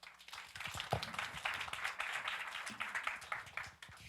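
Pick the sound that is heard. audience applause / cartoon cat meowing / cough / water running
audience applause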